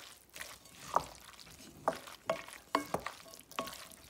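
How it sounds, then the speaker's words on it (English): Spoon scraping through ricotta cheese filling in a bowl, a series of sharp clinks and scrapes in an uneven rhythm, close and moderately loud with no talk. "So we just added our ricotta cheese and we're gonna mix that up."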